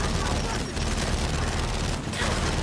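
Frag grenade blast amid sustained gunfire in the Gears 5 campaign, a dense, loud wash of shooting and explosions with brief dips, the battle noise continuous throughout.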